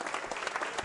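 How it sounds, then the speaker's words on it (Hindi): A brief burst of clapping from a school quiz show audience greets a contestant, a quick patter of many hands lasting under a second. "तालियां जोरदार बजनी चाहिए"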